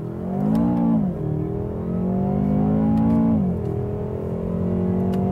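A BMW M6 Competition engine revs hard on acceleration with traction control switched off, its loud, close growl rising and falling in pitch over two long pulls with no talking.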